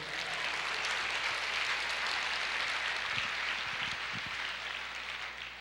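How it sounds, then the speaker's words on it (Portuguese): A church congregation claps in praise during a Portuguese-language sermon, with a continuous, moderately soft wash of applause that fades slightly toward the end. "aplauda ao Senhor"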